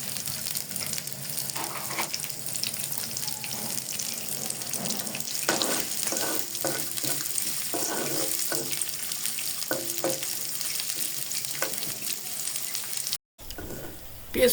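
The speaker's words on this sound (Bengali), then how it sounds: "পেঁয়াজের সঙ্গে আমি মটরশুঁটিগুলোকেও ভেজে নেব।" Onions, chillies and green peas frying in a pan for an evening noodle snack, a steady close sizzle with intermittent scraping and stirring clatters throughout, ending in a brief dropout.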